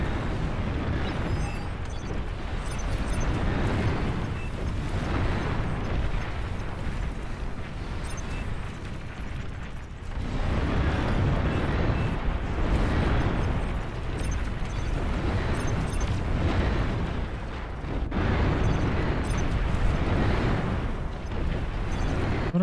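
An enemy commander unit is destroyed in a video game, producing a loud, dense, rumbling explosion that roars continuously with surging swells throughout.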